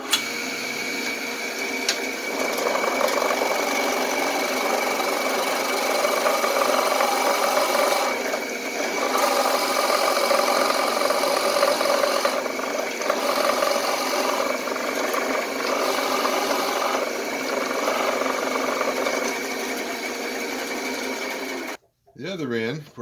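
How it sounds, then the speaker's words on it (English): A 3/4-inch Forstner bit bores steadily into yellow pine at 1000 rpm with a continuous whirring, grinding drone that holds for a long stretch before cutting off near the end. "So we got a 3/4 inch forstner bit going into yellow pine"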